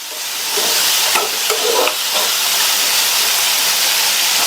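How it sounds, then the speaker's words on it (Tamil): Chopped chow chow sizzles and hisses steadily in a hot pan with salt while being sautéed for chutney, with a few stirring clinks, loud and close, no talking. "இப்போ சட்னிக்கு தேவையான அளவு உப்பையும் சேர்த்துட்டு நல்லா ஒரு 3 நிமிஷம் போல் வதக்கிக்கலாம்."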